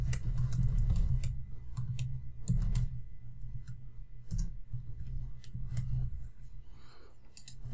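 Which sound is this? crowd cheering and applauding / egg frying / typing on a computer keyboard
typing on a computer keyboard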